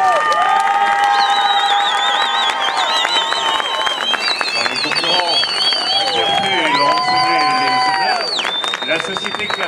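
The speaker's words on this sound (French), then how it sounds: "Allez, avec le public, on peut les applaudir très très fort." Loud, dense applause and cheering fill the room at the awards ceremony of an international hunting-horn group championship in La Roche-Posay. Sustained tones and shouts ring over it throughout, with no break.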